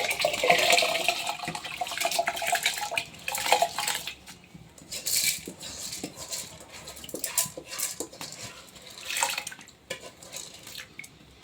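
Chickpeas going into a cooking pot make scattered rattling clatters and knocks mixed with splashy, watery sounds, fairly close and uneven in rhythm.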